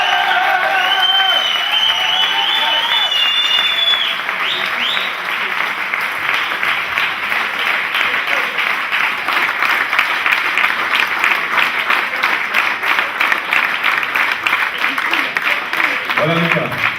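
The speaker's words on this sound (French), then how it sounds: "Donc aussi un tonnerre d'applaudissements pour Stéphane Percy." Crowd applause at a club celebration of titles won in Rossemaison, a long, loud, dense round of clapping with some cheering and whistles near the start, continuing unbroken with crowd noise underneath.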